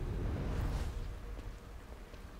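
Steady video game rain from The Evil Within hisses and patters in a broad wash of noise, a little louder at first, with no voices.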